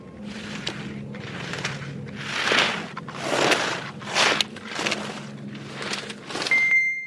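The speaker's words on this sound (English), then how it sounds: "That is the sound of someone thwacking their way through the slalom poles in alpine skiing." An alpine skier cuts through slalom poles, about eight rhythmic swishing surges of skis on snow, each ending in a sharp thwack against a pole, fairly close with a low rumble beneath.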